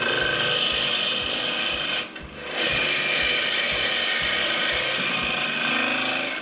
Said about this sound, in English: It's a 13mm woodcut gouge where I'm going to just put a convex curve into the middle.